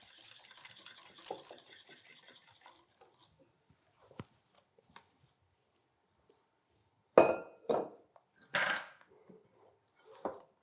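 Clinking and stirring as lemon cream and hot gelatin are whisked in a bowl, with a steady scraping rattle at first, then scattered sharp taps and knocks against the container after a pause.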